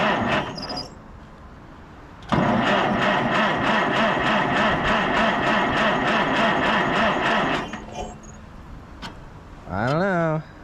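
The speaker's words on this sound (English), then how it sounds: "So let's see if this thing will start." An old barn-find tractor engine cranks in a steady rhythmic chug for about five seconds without firing, then stops. Brief clanks and a rising mechanical squeal come before and after.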